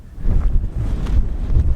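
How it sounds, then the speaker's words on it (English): Strong wind buffets the microphone at a windy overlook above a wide Nevada landscape at sunset, a steady low rumbling roar that surges and dips for under two seconds with no voices. "The wind really started kicking up earlier for no reason."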